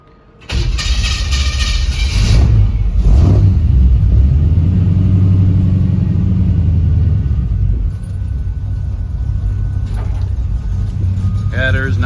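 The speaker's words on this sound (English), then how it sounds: "Turn the key here, and it's got a starter button on this side." A 1949 GMC 100 short bed shop truck with header exhaust cranks and fires up, then settles into a loud, close rumbling idle with a rev that eases back down.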